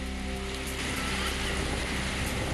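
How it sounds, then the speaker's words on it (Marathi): Steady rain falls in Amravati district, a dense, even hiss of drops on surfaces with no pauses, heard close and filling the whole stretch. "अमरावती जिल्ह्यात पावसाचं पुनरागमन, पेरण्यांना वेग येणार."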